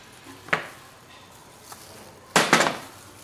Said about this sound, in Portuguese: O aplicador é bem bacana, assim, ele dá um spray.